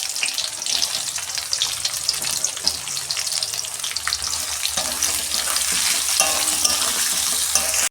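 Birista, sliced onions, frying in hot oil while being stirred, with a steady close sizzle and crackle running through the whole stretch and occasional clinks of the stirring utensil.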